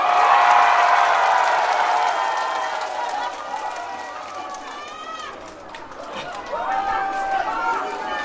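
A concert audience bursts into loud applause and cheering that fades over several seconds, as a voice speaks over the crowd noise.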